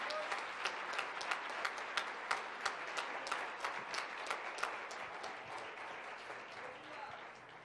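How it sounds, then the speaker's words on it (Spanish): Congregation clapping in rhythm at a church sermon during an evangelical versus Catholic debate, steady beats from a crowd with a faint voice underneath, fading toward the end. "esas palmas son para Cristo, hermano."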